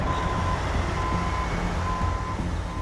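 A heavy rescue truck reverses while its backup alarm sounds steady, evenly spaced beeps over a loud, constant diesel engine rumble.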